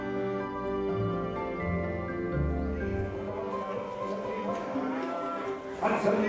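Hereford cattle at a cattle market, several loud, drawn-out moos overlapping continuously from nearby, with other animal noise rising toward the end and no talk.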